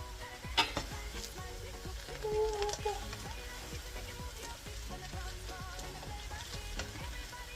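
Fried rice crackles and sizzles in a pan as it is stirred, with repeated spoon scrapes and light clinks over a constant frying hiss, close up and without speech.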